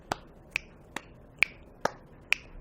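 Six sharp, close percussive hits spaced about half a second apart form a steady clap-and-click rhythm, each crisp snap-like transient standing alone against near silence.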